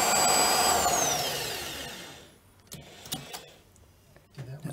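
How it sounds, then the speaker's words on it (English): Variable-speed drill with a small wood bit boring a pilot hole for a Velux window blind, a loud whirring that winds down over two seconds, then a few soft clicks and handling knocks. "I'm going to take my drill. This is a variable drill with the small wooden drill bit, and just drill a pilot hole at the top and the bottom."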